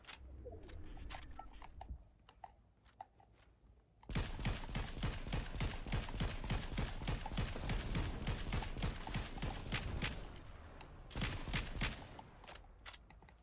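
Rapid automatic gunfire in the first-person mode of the Go Goated video game, a long dense burst of crisp repeating shots after a few scattered single shots, loud and continuous with brief pauses.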